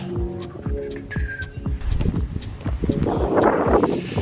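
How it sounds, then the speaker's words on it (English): Gusty wind rumbles and buffets outdoors, rising toward the end, mixed with scattered knocking and clattering sounds and a brief high tone early on. "just gray and windy."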